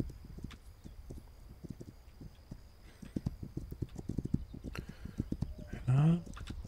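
Video game horse hooves beat out a quick, steady galloping clip-clop rhythm, close and clear, with a short voiced cry near the end.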